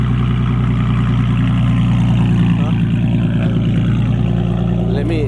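Loud car engine running at a steady, droning idle up close, a constant heavy rumble filling the whole clip, no voices heard.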